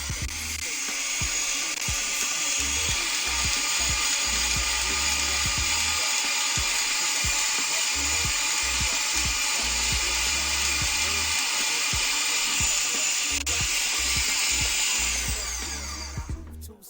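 A loud kitchen machine whips eggs for white chocolate mousse, giving a steady, dense whirring drone that runs unbroken from start to finish, close up and with no voices over it.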